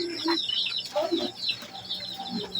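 Chicks hatched in a DIY incubator chirp and peep in quick, high overlapping calls close by, with lower clucking fowl sounds mixed in and a voice speaking faintly underneath.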